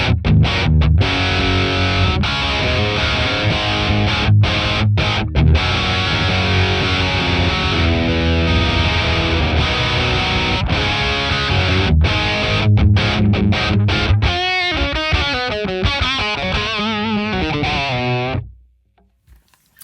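An electric guitar plays through a BOSS Waza Tube Amp Expander with reverb off, giving loud, heavily distorted sustained chords and riffs that ring steadily for about eighteen seconds and then cut off abruptly.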